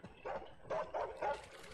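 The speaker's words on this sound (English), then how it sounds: "Oh, a dog." A dog barks a few times in the video game Stay Out, slightly muffled and moderately loud, with short gaps between barks.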